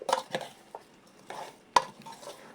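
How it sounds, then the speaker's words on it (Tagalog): A spoon stirs sautéed mushrooms in a pan, giving a few scraping, clinking strokes with one sharper knock against the metal, close and fairly loud with no voices. "At haluin po uli natin para masangkot siya."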